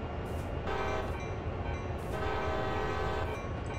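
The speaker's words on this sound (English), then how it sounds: "I like the choo-choo noise" A CSX freight locomotive horn in Train Sim World sounds two loud sustained blasts over a steady rumbling engine and rail noise.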